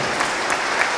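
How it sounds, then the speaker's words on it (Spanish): Church congregation applauding to welcome visiting brethren, a brief burst of dense, even clapping at moderate loudness. "un aplauso para los hermanos que han venido."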